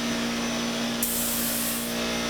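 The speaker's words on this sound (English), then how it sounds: "I start by hitting the edges with the gun set for a narrow fan." A spray gun set to a narrow fan hisses steadily and loudly as it sprays lacquer along the edges of a flat wooden top, with a brighter airy rush partway through.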